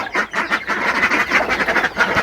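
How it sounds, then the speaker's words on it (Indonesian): A flock of ducks quacks loudly and close up while being fed a bran and maggot feed, a busy overlapping chorus of rapid quacks with no pauses. "Nih kita mau ngasih makan untuk yang ke bebeknya nih."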